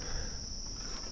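Insects chirp steadily at night in early fall on a camping trip in a wild, swampy area, a continuous, even high trill that is moderately loud and unbroken, with no voices.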